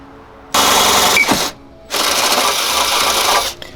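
A power drill bores holes out to half an inch in a Jeep Rubicon rear steel bumper, two loud sustained grinding runs separated by a brief pause, close to the listener and without speech.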